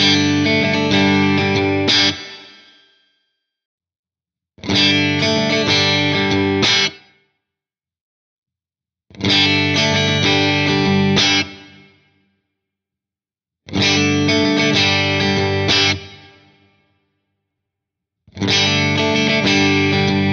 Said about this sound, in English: So I could start by comparing, say, a medium plate reverb to a medium hall reverb